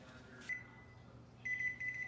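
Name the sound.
kitchen timer going off while baking bread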